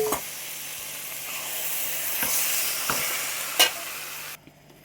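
Chicken pieces dropped into a pan of fried onions for a Kerala roasted-coconut chicken curry, giving a steady sizzle with scraping stir strokes and a few sharp clinks of a spoon against the pan.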